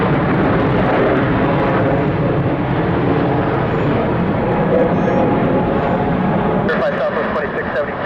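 Jet airliner taking off from runway 26 left at Atlanta airport, a loud sustained roar that holds steady throughout and shifts slightly near the end, heard from nearby.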